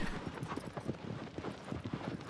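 A horse gallops in the video game Shadow of the Colossus, rapid rhythmic hoofbeats clip-clopping steadily and fairly close, continuous with no talk over them.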